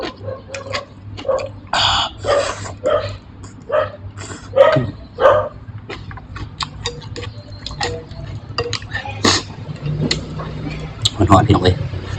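Several dogs bark in sharp repeated bursts, some drawn out into howls, with clicking noises and voices in the background.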